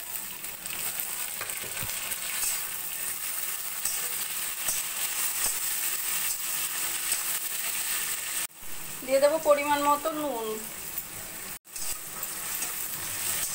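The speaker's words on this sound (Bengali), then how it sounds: "ভালো করে সব সবজিগুলোকে ভাজা ভাজা করে নেব" Capsicum strips, tomato and green chillies stir-fry in a pan for veg hakka noodles, a soft, steady sizzle with occasional scraping stirs, while someone speaks briefly over the cooking partway through.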